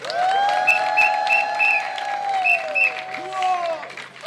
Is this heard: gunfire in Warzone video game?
no